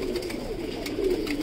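Pigeons of a colourful military type coo softly in a loft, a low, rolling murmur that is faint and steady with no talking.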